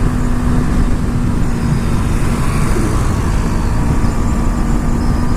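Yamaha R3 inline-twin sport bike cruising on the highway in sixth gear, a dense, constant engine drone mixed with heavy wind rush, loud and unbroken throughout with no speech.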